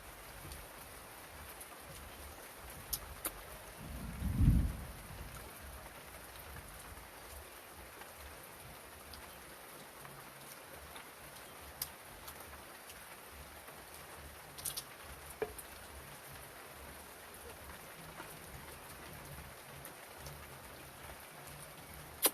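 Steady light rain patters on a surface throughout, with one brief, low, muffled thunder rumble early on and no voices.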